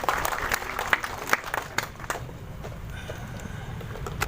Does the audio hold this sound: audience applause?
yes